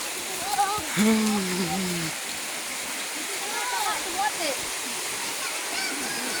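Rain falling on a hillside in Indonesia, a steady broad wash of rain, with people talking briefly over it near the start, then the rain continuing alone.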